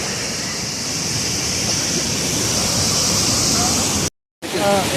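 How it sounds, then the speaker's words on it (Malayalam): Ezharakund waterfall in Kannur roars as a steady, loud broadband rush of falling water, with a brief cut near the end and faint voices afterward. "ഏഴരക്കുണ്ടിന്റെ ഏറ്റവും വലിയ വാട്ടർഫോൾസ് ഉണ്ട്"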